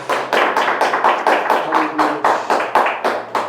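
A church congregation claps rhythmically in unison, about three claps per second, loud and close, with a faint voice underneath.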